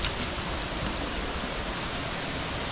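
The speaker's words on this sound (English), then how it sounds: "There's waterfalls on the steps." Water pouring over stone steps at Rock Island State Park, a steady, close, broadband rushing hiss with no pauses and no voices.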